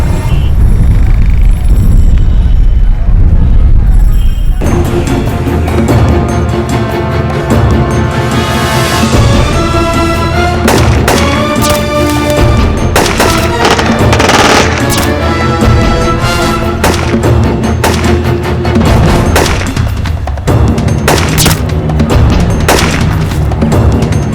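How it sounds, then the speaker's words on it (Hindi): Gunfire in a police shootout, a dense barrage of loud booming shots and bursts layered over a dramatic music score, continuous and intense throughout. "Deshpande, cover fire."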